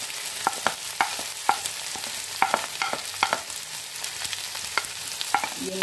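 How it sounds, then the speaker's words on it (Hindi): Spices being stirred into potatoes and bari frying in a pan, with a steady sizzle and repeated sharp spoon scrapes and taps close up, no voices. "अब मैं इसमें मसालों को डालूंगी"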